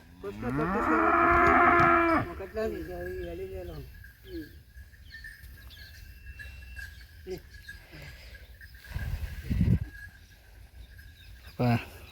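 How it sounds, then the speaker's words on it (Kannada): A loud, drawn-out ox moo opens the clip, followed by a few softer lows and distant animal calls over quiet outdoor farm background during ragi sowing. "ನೋಡಿ ಇವಾಗ ಬರ್ತಾವೆ ಇನ್ನೊಂದು ಜೊತೆ ಎತ್ತುಗಳು"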